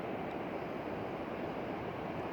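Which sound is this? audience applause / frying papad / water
water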